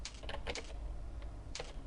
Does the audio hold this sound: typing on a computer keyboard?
yes